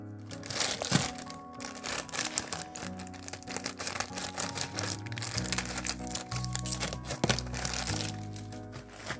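Plastic and cardboard packaging of a Schleich toy fencing set being cut open, a dense, continuous crinkling and crackling close to the mic that lasts throughout, with no speech.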